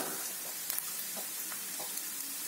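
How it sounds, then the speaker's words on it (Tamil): Tempering spices with asafoetida in hot oil for millet pongal, a soft, steady sizzle with a few faint clinks, quiet and unbroken. "இது தாளிப்பு ரெடி ஆகட்டும்"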